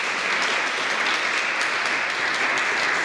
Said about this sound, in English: can we get one big round of applause for all the awardees?